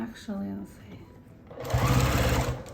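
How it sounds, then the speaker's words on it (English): A sewing machine stitches a straight seam to close a boxy bag, its steady whirring run starting after a stretch of talking and continuing loud and close to the end. "now I'm just going to sew these closed, and I don't back stitch, I just sew straight"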